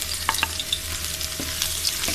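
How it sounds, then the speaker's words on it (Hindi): Garlic sizzles in hot ghee for a tadka, a soft continuous frying hiss with a few light crackles and spoon scrapes, nearby, with no voices. "इसी घी में हम तड़का बना के डालेंगे। सबसे पहले हम लहसुन डालेंगे"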